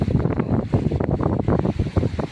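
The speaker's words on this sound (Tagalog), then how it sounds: "Lakas ang hangin." Strong gusting wind buffets the microphone on a sandy beach near the sea, producing loud, uneven bursts of low roaring rumble with no talking.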